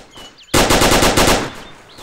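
Short, loud burst of about ten rapid automatic gunshots in the Arma II video game, coming after a brief quiet moment and fading into faint ambience.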